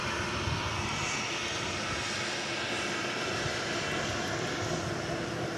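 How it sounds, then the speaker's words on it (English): A United Boeing 737-800 airliner on approach near DFW Airport, heard as a steady, loud jet engine roar and broad rushing whoosh that holds constant throughout, with no talking. "I spy a United 737-800, flight 3032, which is now approaching us. You can hear it."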